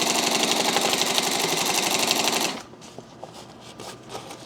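A sewing machine stitches binding around a backpack lid with loud, rapid, even needle chatter for about two and a half seconds, then stops abruptly, leaving quiet handling noises.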